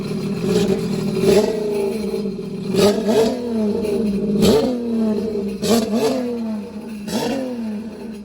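A new Sea-Doo Spark TRIXX personal watercraft with a Wet Jet Performance rear exit exhaust revs repeatedly, its engine rising and falling in several close, loud blips with no talk.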